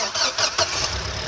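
Hyundai Creta petrol engine cranking and catching after its injectors were cleaned, a brief close burst of starter whir and bursts of sound settling into a running hum within about a second.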